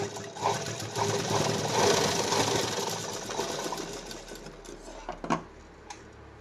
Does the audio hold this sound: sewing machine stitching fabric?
yes